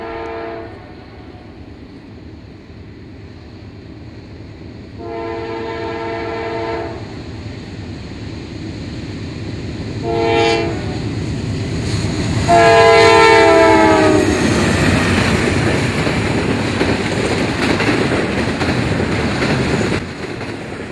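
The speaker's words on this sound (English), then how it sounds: "Norfolk Southern 206 is a high priority intermodal train running from Chicago, Illinois to Mechanicville, New York" A Norfolk Southern intermodal freight train rumbles steadily past in Girard, Pennsylvania, its horn sounding several times and growing louder as it approaches, then the roar of passing cars continues.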